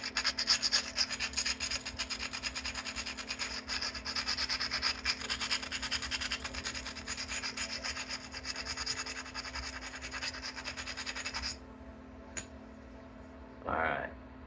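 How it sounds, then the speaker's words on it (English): Obsidian being scratched up before flintknapping gives a steady rasping, grinding scrape for about eleven seconds, then stops, leaving a couple of faint clicks and a brief rustle. "I want to just try to make as many scratches in that as I can, so that it's all about getting a grab."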